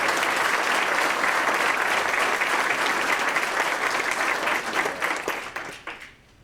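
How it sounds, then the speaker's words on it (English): A room full of people applauds law enforcement officers at a veterans' court graduation ceremony, loud sustained clapping that holds steady and then thins out and fades over the last second or two. "we owe a big round of applause to all these hard-working law enforcement folks"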